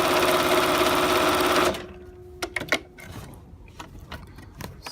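A Riccar Bernina 1230 electronic sewing machine, upgraded to 1240, runs a decorative stitch with a steady, loud mechanical whir that stops abruptly after about 1.7 seconds, followed by a few scattered clicks and taps.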